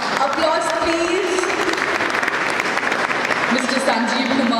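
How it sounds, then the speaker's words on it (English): Audience applause for the chief guest at a World Space Week event held with ISRO, dense and sustained, with voices and a low tone running under it. "Applause, please."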